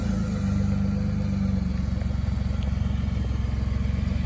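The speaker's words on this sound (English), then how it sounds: "we are going to go ahead and start this thing up for you" A 2023 Ford F-150 Platinum 4x4 with a 3.5-liter EcoBoost V6 idles steadily and close by, a low continuous rumble with a slight pulse, after a brief rise as it settles.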